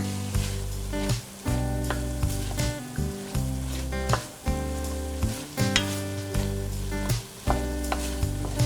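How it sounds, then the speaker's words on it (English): Diced onion and chopped celery sizzle steadily in a pot over medium heat, a loud, close frying hiss broken by repeated stirring scrapes, with no voices. "I'm going to add the diced onion and chopped celery and mix that in a medium heat for about 2 minutes"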